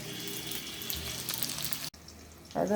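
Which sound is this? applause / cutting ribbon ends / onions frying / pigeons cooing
onions frying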